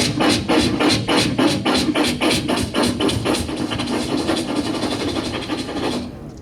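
A voice mimics a train clattering past a level crossing, steady rhythmic clickety-clack bursts repeating about every quarter second over a low rumble, fading out at the end, performed live at a short film awards event.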